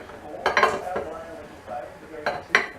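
Metal lids clink and clatter onto hot glass jars of homemade tomato sauce in a few separate close knocks, with quieter handling between them.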